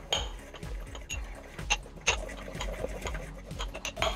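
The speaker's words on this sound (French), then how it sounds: "je vais commencer par passer au mortier du cumin et du thym" Cumin and thyme ground in a mortar, a series of faint, irregular knocking and scraping strokes of the pestle at close range.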